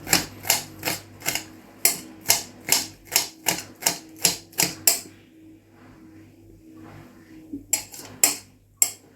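Rapid knife chops on a cutting board slicing spring onions, about fourteen sharp evenly spaced knocks, a quiet pause with faint kitchen hum, then a few more chops near the mic.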